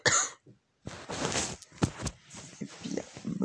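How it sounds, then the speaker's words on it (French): A person coughs a few times close to the microphone, rough breathy bursts with short pauses between, in an otherwise quiet indoor setting with no talking. "Je vais peut-être tousser un bon coup avant de reprendre."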